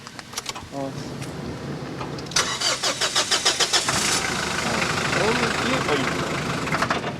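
A light military buggy with its upper body removed, headed for the front line: the starter cranks, the engine catches and revs in loud pulsing bursts, then settles into a steady running drone, with faint voices beneath.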